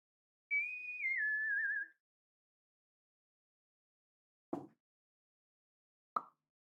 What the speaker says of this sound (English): I'm just whistling.